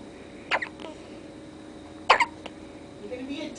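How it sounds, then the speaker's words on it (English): Loud hiccups from a female come as two sharp, close bursts about a second and a half apart over a quiet background, with faint sounds at the end. "She has some loud hiccups."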